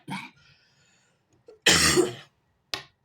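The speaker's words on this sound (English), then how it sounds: "still getting over whatever this cough thing is" A few sharp coughs close by: a short one, then a long harsh burst, then a brief final cough, with quiet gaps between.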